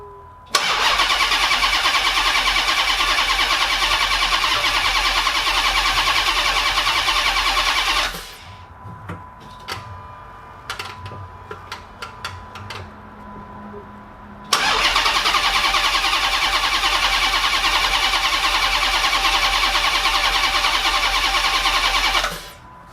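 A car connected to a jump box cranks and runs loudly on a dyno in two long, roaring bursts. The engine cuts out for several seconds in between, leaving scattered clanks and rattles.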